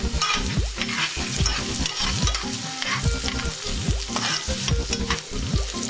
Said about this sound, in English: Then add my rough chopped 1 medium onion. Give it a little stir.